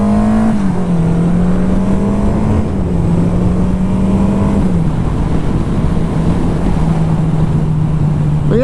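A 40-year-old Suzuki GS 750 four-cylinder motorcycle on the move, its engine droning loud and steady with the pitch rising and dropping through gear changes, over constant wind and road roar.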